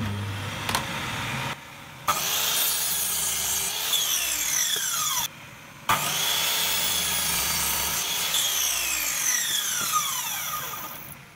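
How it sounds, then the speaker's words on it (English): Miter saw angled to 45 degrees cutting lengths of wood for a van bench seat: a continuous high whine with a few pitch sweeps as the blade spins down, broken by two short pauses, loud and close. "So I've just swung the miter saw over to 45 degrees and we'll just cut these bits of wood."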